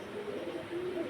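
A pigeon coos close by, a single low, throaty rolling call that lasts about a second against a faint background hum.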